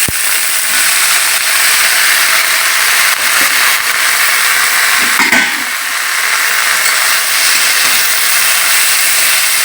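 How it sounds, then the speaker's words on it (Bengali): Whole leaves frying in hot oil in a wok, a loud, continuous bright hiss and crackle that holds steady throughout, with a brief surge midway. "এই যে কড়াইতে এবার তেল দিয়ে দিচ্ছি দিয়ে আমি এই পুরো পাতাটা"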